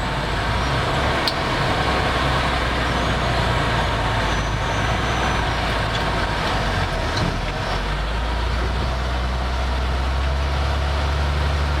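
A Freightliner truck drives up the ramp onto the I-95 highway, with a loud, steady engine drone and road rumble that run without a break and a low tone that climbs late as it speeds up.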